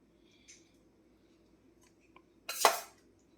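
Utensils scrape and clink against a plate while rice and vegetables are served, a few faint taps followed by one louder, close clatter near the end in an otherwise quiet room.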